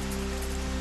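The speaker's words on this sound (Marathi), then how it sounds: "ठाण्यातील अनेक भागात जोरदार पावसाची हजेरी" Heavy monsoon rain in Thane pours down in a dense, steady hiss, loud and continuous with no voices over it.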